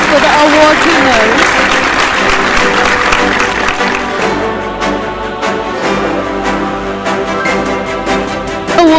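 An audience applauds an award winner at a scientific award ceremony, sustained, even clapping from a crowd with a voice and tonal music running beneath it.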